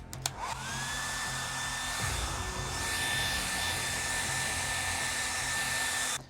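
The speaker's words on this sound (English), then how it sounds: "That would be my hair dryer" A hair dryer switches on with a click and rises to a steady, loud whirring blow with a high whine, running continuously before cutting off.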